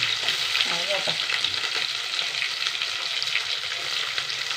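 Green chillies and shallots frying in hot oil with garlic and mustard seeds, a steady soft sizzle with light stirring throughout, no voice heard.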